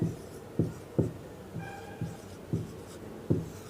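A pen writes on paper while a matrix problem is worked out, giving short scratchy strokes in an irregular rhythm with about seven distinct taps and scrapes, close and clear with no talking.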